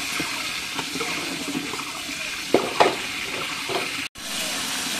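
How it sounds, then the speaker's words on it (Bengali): Bay leaf, onions and whole spices such as cardamom and cinnamon fry in hot oil with a loud, continuous sizzle. A couple of brief clattering stirs stand out above it. "পেঁয়াজগুলো দিয়ে দিন। তেজপাতাটা দিই তেলের মধ্যে।"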